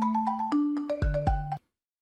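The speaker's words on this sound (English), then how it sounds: "I'm getting a phone call." A phone ringtone for an incoming call plays clearly and alone, a bright melodic sequence of stepped notes with a low thump near the end, stopping abruptly after about a second and a half.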